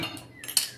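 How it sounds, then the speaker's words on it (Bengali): A short metallic clank and scrape as a wok is set down on a gas stove burner, close and brief. "কড়াইটা বসিয়ে দিলাম।"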